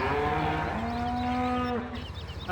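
Cows at a Farming Simulator 17 animal dealer moo in one long, low, drawn-out call, clear and close, with no talk over it.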